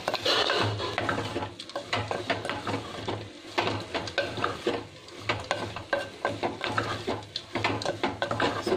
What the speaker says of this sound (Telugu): శుభ్రంగా కలుపుకోవాలి